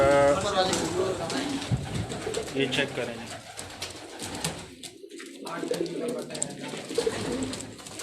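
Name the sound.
pigeons cooing on rooftop loft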